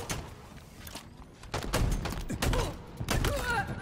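A shotgun fires in the video game Halo Infinite: repeated heavy blasts burst out every half second or so, some overlapping, over a busy game background.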